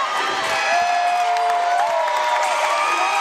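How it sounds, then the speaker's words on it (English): A large crowd cheers and shouts continuously at a girls' basketball championship game in a big indoor gym, with whoops rising above a loud, sustained roar. "And you hear the crowd, my goodness."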